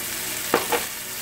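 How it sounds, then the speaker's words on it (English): Vegetables and minced garlic saute in a pan with a steady, soft sizzle. Two quick stirring scrapes break through near the middle of a brief, close moment without any talking. "About 3 minutes you want to saute your vegetables."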